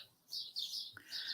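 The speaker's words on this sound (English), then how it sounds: "sing-song birds" Songbirds chirping outdoors in a neighborhood, a few short bright tweets and trills in quick succession, moderately close and clear over a quiet background.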